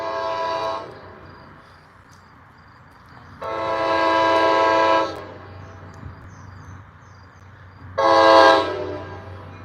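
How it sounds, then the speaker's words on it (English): A New Jersey Transit train pulls into a station, sounding three loud horn blasts, a short one first, then a long one and a final short one, over a steady rumble of the train. "we got the train coming in here now, so we're gonna get this coming on in here."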